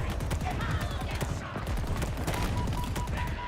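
Rapid bursts of automatic gunfire from a weapon in the Halo Infinite campaign, loud and continuous for several seconds with a fast rhythmic rattle, with some background game sounds.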